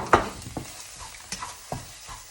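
Pork being dry stir-fried with kaffir lime leaves for Thai khua kling, giving a few scattered scraping stirs and soft sizzling bursts, close and fairly quiet, with no talk.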